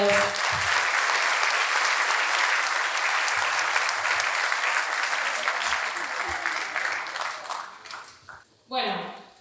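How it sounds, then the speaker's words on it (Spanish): A crowd applauds the flag bearers at a ceremony, with sustained dense clapping that thins and fades toward the end before a brief voice cuts in. "un aplauso más para los abanderados"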